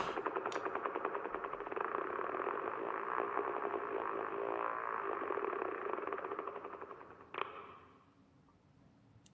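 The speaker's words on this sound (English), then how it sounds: "That was a motorboat's propeller failing." A failing motorboat propeller in Kentucky Route Zero, heard as a steady, harsh, sputtering mechanical drone with a rapid flutter. It holds loud for several seconds, then gives a sharp clank and dies down to a faint hiss.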